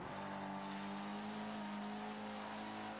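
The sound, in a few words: Ferrari car engine driving in video game Forza Motorsport 5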